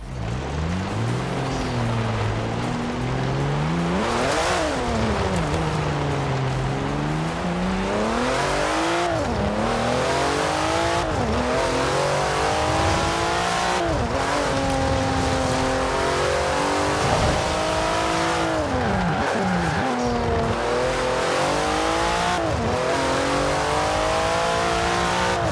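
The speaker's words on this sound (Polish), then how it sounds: "posłuchajmy, jak brzmi Porsche" A tuned Porsche in Forza Horizon 4 revs hard and continuously in an evening game scene, its engine note climbing and dropping in repeated sweeps, loud and close throughout with no voices.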